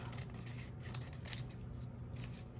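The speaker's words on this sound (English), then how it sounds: "cut it off" Scissors cutting through paper while a journal is being finished, giving a faint, close, soft rasping snip that comes in a few short strokes over a low background hum.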